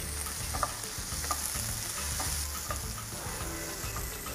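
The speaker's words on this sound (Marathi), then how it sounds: "सगळ्या भाज्या आपल्याला छान परतून घ्यायच्या आहेत अगदी गरम मसाल्याबरोबर" Mixed vegetables sautéing with garam masala for tawa pulao, a continuous close sizzle with repeated stirring clinks and scrapes throughout.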